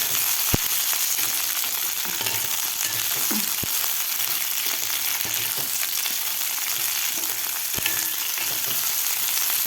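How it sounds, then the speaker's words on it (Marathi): Okra fries in hot oil as a constant dense sizzle, with sharp clicks and occasional spoon scrapes against the pan cutting through the steady hiss. "भेंडी आपल्याला दोन ते तीन मिनिट याला फ्राय करून घ्यायचं आहे तेलामध्ये"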